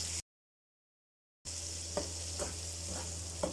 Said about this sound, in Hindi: तो अब हम इसे घी डाल के फ्राई कर लेते